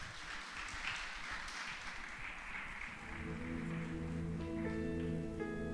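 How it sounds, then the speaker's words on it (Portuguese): A congregation gives hearty applause during a church celebration service, a dense wash of clapping for a few seconds before sustained keyboard chords rise up beneath it. "Dê um forte aplauso ao nosso Deus."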